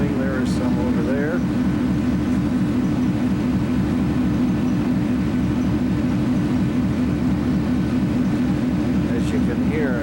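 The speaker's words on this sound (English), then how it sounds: "As you can hear, I'm standing beside the engine compartment of the ferry." A ferry's engine compartment runs loud and close, a steady low mechanical drone with rhythmic throb that holds without a break, water turbulence mixed in and no talk over it.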